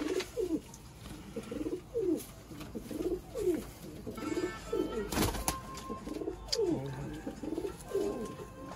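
Pigeons coo repeatedly nearby in soft, throaty bursts, with a brief clatter partway through.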